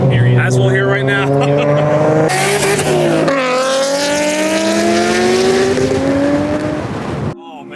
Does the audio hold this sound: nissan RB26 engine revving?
yes